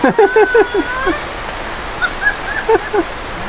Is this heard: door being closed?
no